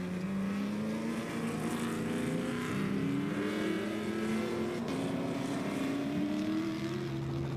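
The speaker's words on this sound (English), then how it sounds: "Back-to-back Castrol Toyotas approaching." Two Castrol Toyota rally race cars approach in succession during the Gold 400 off-road race, their engines droning loudly and continuously with rising and shifting pitch as they near.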